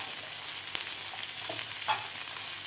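Vegetables with carrot stir-fried over a high flame for an egg roll, a steady broadband sizzle with a few spatula scrapes and clicks throughout, close and continuous.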